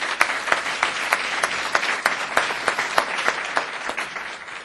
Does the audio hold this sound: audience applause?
yes